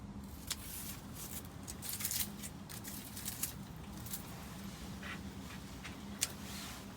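Dead geranium stems are snipped one after another with scissors or pruners, producing faint, close, scattered clicks over a quiet background.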